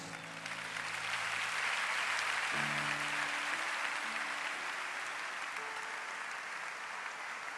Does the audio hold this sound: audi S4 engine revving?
no